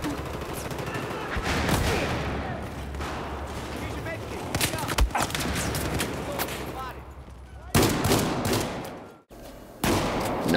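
Pump-action shotgun blasts in the Battlefield 4 shooter ring out in loud bursts amid busy combat noise and other gunfire, with several sharp reports and a brief cut near the end.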